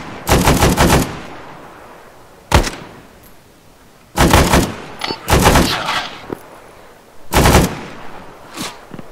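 Video game machine guns lay down suppressing fire in several loud, rapid bursts, each about half a second to a second long, separated by pauses, with a few single sharp shots in between.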